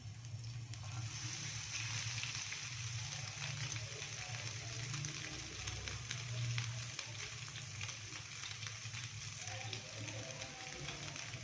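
Chicken pieces sizzle and fry in a pan with browned garlic, a steady close crackle and hiss that carries on without a break.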